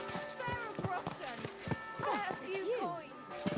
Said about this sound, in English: Watch out for that horse.